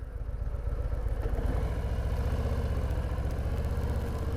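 A Harley motorcycle engine idles close by with a steady, low, rhythmic rumble, holding fairly loud and even throughout with no voices.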